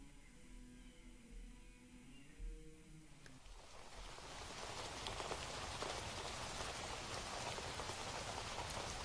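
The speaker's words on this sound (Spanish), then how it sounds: "La lluvia tropical caía formando grandes láminas que mojaban hasta el tuétano." Heavy tropical rain begins softly and builds into a steady, dense downpour that drums on a surface and continues without pause.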